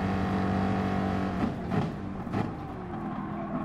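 A race car in GT Sport, its engine droning steadily and then dipping and rising through a couple of quick gear changes, close and continuous with no talk.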